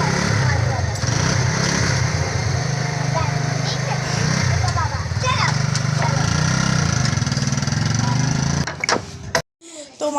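A motorcycle with children sitting on it idles, a loud, close, steady engine chug that runs throughout, then cuts off abruptly near the end, with voices in the background.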